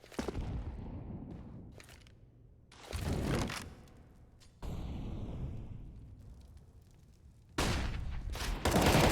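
A Counter-Strike gunfight on the Mirage map, with loud bursts of rifle fire and sharp shots in several separate volleys, some trailing into softer echoes.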